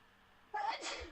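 A single sharp sneeze bursts out close and fairly quiet, right after a person speaks briefly.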